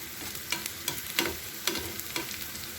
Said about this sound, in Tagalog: Igisa natin yung sibuyas.